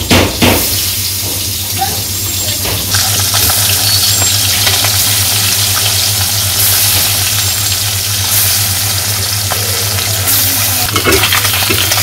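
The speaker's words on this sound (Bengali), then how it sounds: "সেদিকে মাছ ভাজা হয়ে গেছে" Steady sizzling of fish frying in hot oil, a continuous crackle with a low hum underneath, occasional light knocks, no voices.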